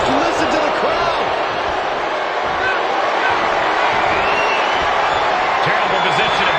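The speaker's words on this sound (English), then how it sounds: "Just listen to the crowd." Loud, dense wrestling arena crowd roaring and cheering continuously, a broad wash of voices with no pauses, filling the space throughout.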